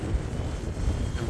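Strong wind buffeting a microphone at an RC plane flying field, a low, gusty rumble that is continuous and fairly loud throughout the short moment.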